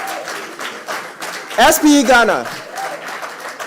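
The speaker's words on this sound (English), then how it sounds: "Let's give them a round of applause." Audience applause at a young professionals' workshop, broken clapping mostly buried under a speaker's amplified voice, with a brief louder swell midway.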